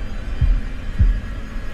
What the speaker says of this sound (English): Bro, the heartbeat done got faster.